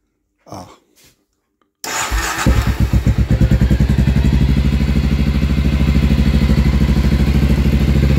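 After a couple of short coughs and a pause, a warmed-up FMX 650 motorcycle engine with a choke problem fires up and keeps idling with a loud, steady, rhythmic chug close by.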